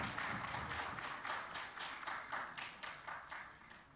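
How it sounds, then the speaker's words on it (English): Faint, distant applause from a conference audience for a paper presenter: a steady patter of many hands clapping that rises and falls slightly over several seconds. "A round of applause for our paper presenter"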